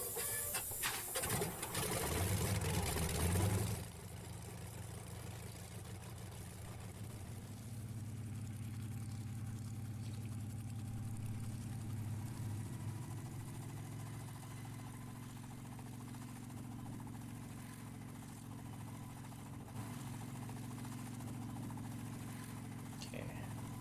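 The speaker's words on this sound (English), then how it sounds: "It's hard talking to people or hearing people talk when all you hear is the helicopter." A helicopter engine in the video game DayZ: a loud rush for the first few seconds, then a steady, lower, continuous mechanical drone that holds evenly to the end.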